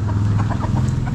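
Chickens from a backyard flock cluck in short repeated bursts over a steady low hum, close and fairly loud, with no voices.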